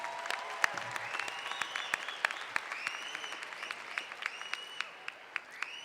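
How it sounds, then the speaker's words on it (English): Graduates applaud at a university commencement, a steady crowd clapping with sharper individual claps popping out, accompanied by faint sustained tonal sounds running underneath. "Give yourselves another round of applause."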